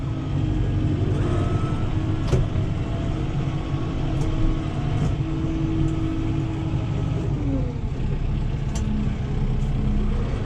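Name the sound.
Kubota M7060 tractor engine throttled up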